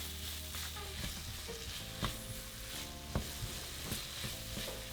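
Chicken for tacos sizzles and fries in a pan with salt, a steady crackling hiss near the microphone, broken by a few sharp utensil scrapes and taps from stirring.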